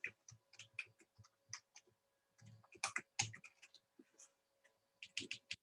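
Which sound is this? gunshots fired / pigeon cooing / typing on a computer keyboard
typing on a computer keyboard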